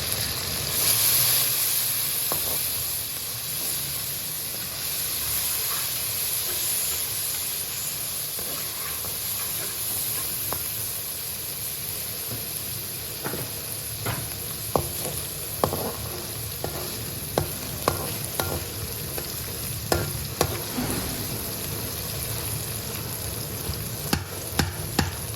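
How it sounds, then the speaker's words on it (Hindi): Garlic and ginger paste is stirred into browned onions in a hot pan, giving a continuous hissing sizzle with frequent scraping clicks of the spoon against the pan that grow busier toward the end, with no talking. "अब इसमें लहसुन और अदरक का पेस्ट डाल दें। इसको अच्छी तरह मिक्स कर लें।"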